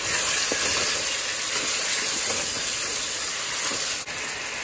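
Tomato goes into a pan of chicken being cooked for saag gosht, setting off a loud, steady, broadband sizzle that runs unbroken throughout with no one speaking.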